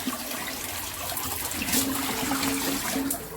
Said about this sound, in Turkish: Şimdi suyu dökeyim